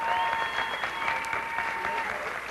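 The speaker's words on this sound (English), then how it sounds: "let's have another round of applause for all our guests and general managers" An audience applauds guests and general managers at an awards event, a steady burst of clapping with a faint voice or tone threading through it.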